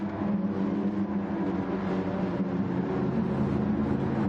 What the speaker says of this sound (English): everyone's just absolutely getting the revs up in themselves